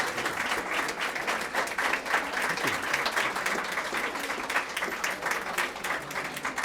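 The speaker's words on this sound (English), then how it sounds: "Let's give a huge round of applause." Sustained audience applause fills a hall after a talk, a dense, steady wash of many hands clapping with no pause from start to finish.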